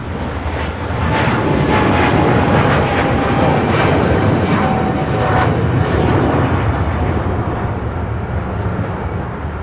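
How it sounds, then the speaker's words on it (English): Philippine Airlines Boeing 777-300ER taking off from Los Angeles for Manila, a loud, close jet engine roar swelling in the first second and holding powerful and steady, with a thin whine running through it. "This is Philippine Airlines Flight 113 taking off to Manila on a 777-300ER"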